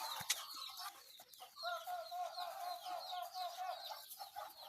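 Farm chickens cluck softly and repeatedly in a backyard poultry garden, a fairly faint, busy chatter of calls close by with little talk.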